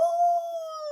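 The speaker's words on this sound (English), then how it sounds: "Simultaneously, Barry and John begin to howl." Dogs howling in an audio drama: one sustained, steady howl lasting about a second, close and clear with no talk over it.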